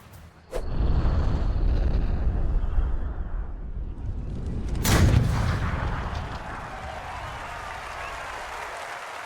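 A long golf drive is struck in the EA Sports PGA Tour video game, a sharp loud impact with a booming burst around the middle, followed by an ambient roar like a crowd that settles into a steady wash.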